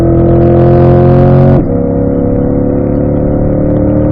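A car engine hums loud and close as it accelerates smoothly, holding a steady droning tone before its pitch shifts and drops about midway, then keeps pulling evenly.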